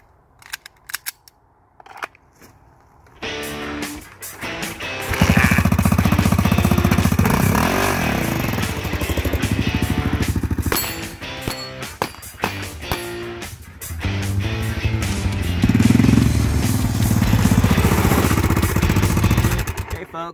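A motorcycle engine runs loud and steady at close range while a rider fires at an MGM Texas Star target from the back of the bike one-handed, with sharp irregular shots and metallic clanks cutting through the engine drone.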